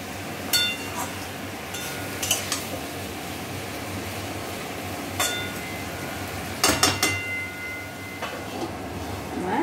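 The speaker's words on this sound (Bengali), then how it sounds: "আদাটা দিয়ে আবার সব সবজিগুলো ভালোভাবে নেড়ে আদাটা ভালোভাবে মিশিয়ে দিচ্ছে।" Vegetables with ginger paste are stirred in a pan while cooking sukto, giving sparse metallic clinks and scrapes of a spatula over a steady low background hum.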